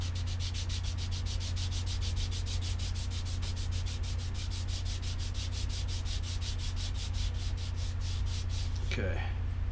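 A wooden propeller blade is hand-shaped and hollowed out with rapid, even rubbing strokes that repeat steadily, close and continuous over a low constant hum.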